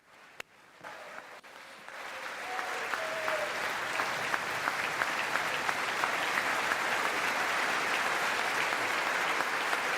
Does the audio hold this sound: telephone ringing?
no